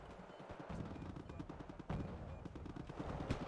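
Rapid automatic gunfire from the Squad video game, a steady rattle of shots with a sharper burst near the middle, loud and continuous with no voices over it.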